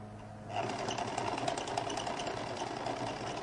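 A sewing machine starts after a brief quiet moment and runs steadily, stitching a lady's jacket with a close, even mechanical whir and rapid needle rattle.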